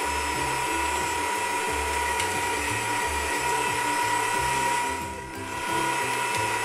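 A kitchen stand mixer blends goat cheese into a savory spinach plumcake batter, giving a loud, steady motor whir with a rapid, rhythmic gear-like clatter throughout and a brief dip near the end.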